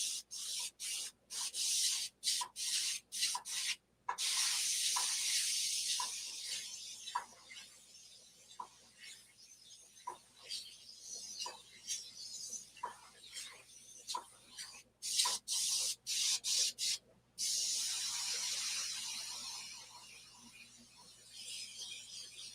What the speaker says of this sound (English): Help me get used to just what this airbrush can do.